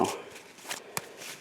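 A deck of playing cards shuffled close at hand, heard as a few quick, soft riffling and flicking bursts with a sharp snap near the end.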